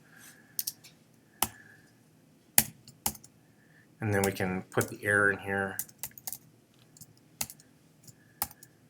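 Keystrokes on an unfamiliar computer keyboard click in scattered taps and short runs, close and crisp, pausing while someone talks through code.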